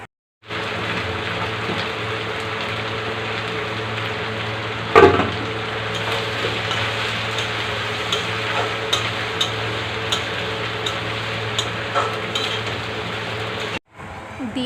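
Chopped bottle gourd fries in a pan with ginger and green chilli, giving off a steady, even sizzling hiss for the whole stretch, with a few light clicks and one sharper knock early on.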